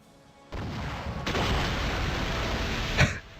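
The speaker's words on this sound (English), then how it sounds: "watch out with this guy with the rocket launcher" Rocket launcher fire in a video game erupts after a quiet start, a sustained loud roaring blast with a rumbling tail, capped by a sharp impact burst before dropping off.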